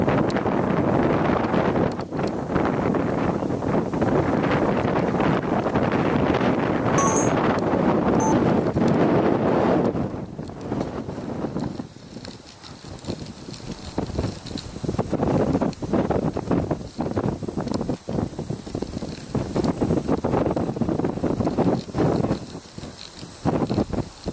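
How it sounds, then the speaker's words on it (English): Outdoor wind buffets the microphone in a loud, roaring rumble for about ten seconds, then eases into intermittent gusty thumps and rustles for the remainder. "Hold on, we've got the wind, everybody, so."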